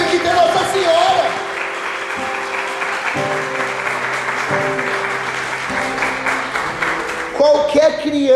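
Applause from a congregation during a Portuguese-language Catholic sermon on Mary, steady clapping with a held tonal hum beneath and a voice breaking in near the end.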